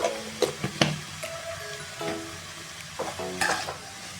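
Tomatoes with a spoonful of salt stirred in a frying pan, with repeated scraping and clinking strokes over a soft, steady sizzle.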